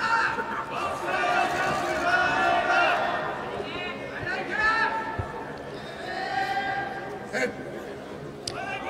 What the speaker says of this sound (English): Japanese cheering section making a bit of noise there.